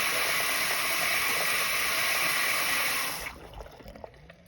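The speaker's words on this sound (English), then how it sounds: "See that water pressure on that new faucet?" Water gushes in a strong, steady hiss from a newly fitted faucet in an RV being de-winterized, then cuts off abruptly near the end and leaves a few faint drips and clatters.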